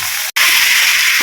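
Chicken dropped into a hot pan with ginger and garlic gives a loud, steady hiss of searing and steam that runs almost the whole time, broken only by one brief gap near the start.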